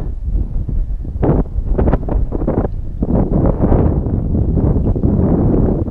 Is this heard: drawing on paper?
no